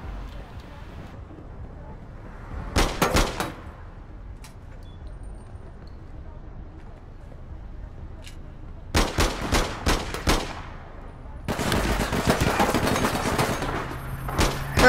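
Gunfire in the video game APB Reloaded, several short bursts of rapid shots separated by quieter stretches, with a longer sustained volley near the end, heard alone without talk.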